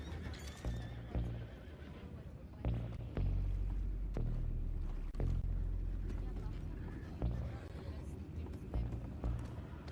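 Horses in a video game whinny loudly and their hooves clip-clop nearby, with repeated neighs over a background rumble and voices talking in between.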